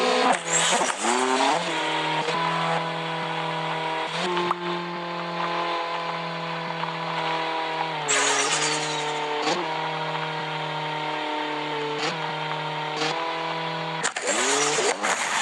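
Car engine droning steadily while driving at around 55, its pitch climbing and dropping in repeated shifts as it speeds up and eases off, loud and close throughout with no talking.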